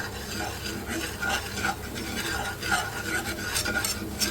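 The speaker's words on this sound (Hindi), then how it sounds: "इसको अच्छे तरीके से मिक्स कर लें" Flour roasting in oil in a pan for white sauce is stirred continuously, with close, loud, rasping scrapes of the spoon repeating over a steady sizzle.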